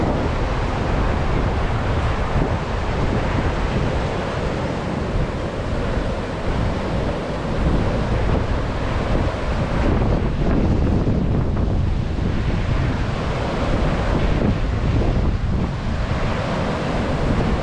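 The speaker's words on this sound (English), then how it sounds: "Still vicious waves, but not like yesterday." Heavy ocean surf from Hurricane Nicole crashing continuously against a pier in Volusia County, Florida, a loud, dense roar of breaking waves mixed with strong wind buffeting, no voices.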